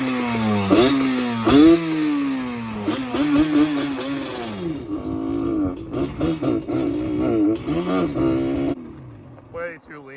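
A Yamaha Banshee trike engine running cold and lean with the choke in play, its revs rising and falling unevenly and sputtering, loud and close, with voices talking over it.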